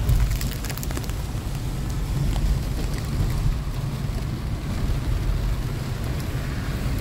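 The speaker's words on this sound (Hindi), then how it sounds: "अभी देखो कैसी बारिश भयंकर हो गई।" Heavy monsoon rain pours onto a car during a downpour in Dehradun, a dense, steady hiss and patter that stays loud and continuous throughout, with no voices.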